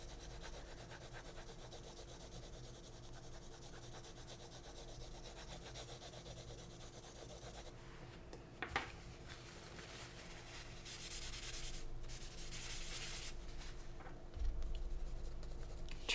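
A pencil shades on paper in a steady, continuous scratchy rub, close and fairly faint, growing a little busier toward the end with no talking.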